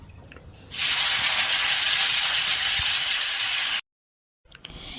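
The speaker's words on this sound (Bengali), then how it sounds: "কড়ার মধ্যে তেল দিয়ে এবার আলুটা ভাজা করব" Potatoes dropped into hot oil in a wok burst into a loud, steady, close hiss of frying that runs for about three seconds, then cuts off abruptly to silence before faint sizzling resumes.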